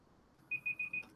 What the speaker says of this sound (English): Oh, it's my timer.